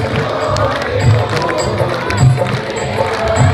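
A crowd at a Khatu Shyam festival in Dadri claps together over a busy, noisy backdrop of chatter and cheering, with a few louder rhythmic hand-claps standing out.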